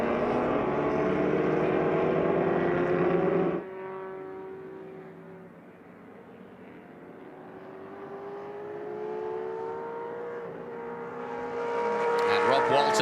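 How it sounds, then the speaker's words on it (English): A Shelby and a Ferrari 275 GTB racing at Sonoma Raceway, loud engines roaring past with rising and falling pitch, then a quieter stretch of distant engine tones before another close, loud pass builds at the end. "The Shelby out front, being chased hard by the Ferrari."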